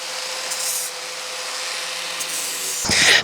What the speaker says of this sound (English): take some steel wool on the end that we're going to be welding on. We'll just clean it up a little bit.